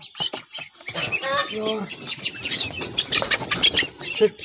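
Muscovy ducklings peep and squawk in quick bursts near a fountain, mixed with someone speaking loudly over and between the calls.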